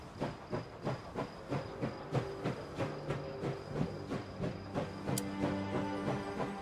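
A train runs in the video game Last Train Home, with rhythmic clickety-clack beats about twice a second, a hissing steam layer and a low mechanical drone, fairly quiet throughout.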